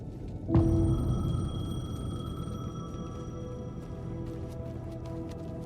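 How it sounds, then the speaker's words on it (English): A payphone ringing in the video game Alan Wake 2, a sudden electronic ring that starts abruptly and then sustains with a lingering tonal hum, fairly quiet and with no talk. "The payphone was ringing."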